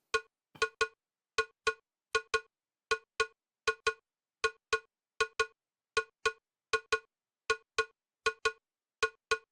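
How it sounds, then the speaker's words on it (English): Cowbell playing a straightforward soca beat, crisp metallic strikes in a steady repeating pattern of single and doubled hits, clean and alone with no other sounds. "And the cowbell is just playing straightforward like this."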